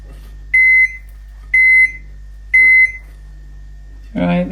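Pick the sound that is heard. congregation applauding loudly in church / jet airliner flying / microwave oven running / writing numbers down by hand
microwave oven running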